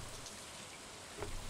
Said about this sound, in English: I don't know what that sound was. I think that was the rain.